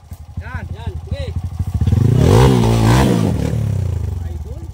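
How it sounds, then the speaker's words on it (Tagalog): A loud motorcycle engine revs up close, rising into a strong roar and then holding a rough idle, while people talk over it at the start. "Proud niya yung malakas motor niya eh."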